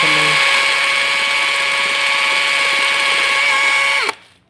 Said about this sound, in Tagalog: Butasan din natin dito.